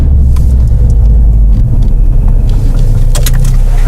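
A Mercedes-AMG car at speed on a proving ground, its engine a loud, steady, close rumble with continuous road and wind roar and no voices.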